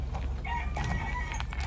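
Fighting roosters crowing in a short burst, several overlapping calls against steady background noise, with no talking.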